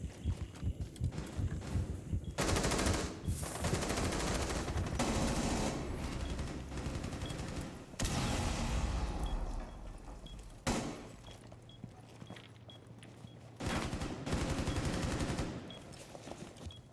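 Bursts of video game gunfire from a tactical team shooter, loud and dense blocks of rapid shots separated by brief lulls, with footstep-like clatter between volleys.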